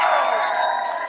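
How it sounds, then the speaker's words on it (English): A live outdoor comedy crowd in George Square, Glasgow, claps and cheers for comedian Craig Houston, a dense, steady wash of applause and whoops from start to finish. "Give him a big round of applause"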